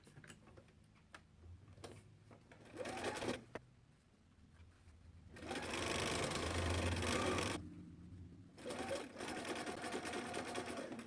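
A sewing machine chain-stitches quilt pieces in bursts, its needle ticking in quick even rhythm, swelling to a long loud steady run midway before easing into a lighter, quieter stitching pace.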